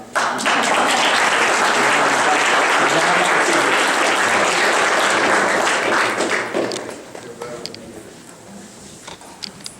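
An audience at a book presentation applauds loudly and steadily for about seven seconds, then the clapping thins out and fades to a few scattered claps.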